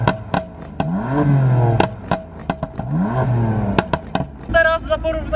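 A BMW M4 fitted with a loud exhaust revs repeatedly, sharp throttle blips rising and falling in close succession with crackling bursts, heard up close and fairly loud.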